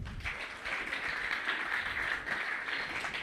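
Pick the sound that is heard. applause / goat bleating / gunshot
applause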